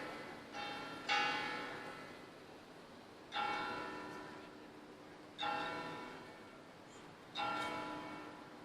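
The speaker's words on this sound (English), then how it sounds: "just in time for the noon bells" Church bells ringing at noon in Cartagena's walled town center, a slow series of resonant strikes, each tolling tone decaying before the next, heard from a distance.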